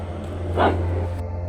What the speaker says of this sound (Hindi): कुत्ते अचानक और ज़ोर से भौंकने लगे